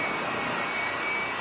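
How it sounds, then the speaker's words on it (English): A Westinghouse J34 jet engine powers the Smith Brothers jet Honda funny car, an NHRA-approved drag racer, and gives off a steady, loud, close jet roar that holds evenly throughout with no break. "The car is powered by a J34 Westinghouse jet engine"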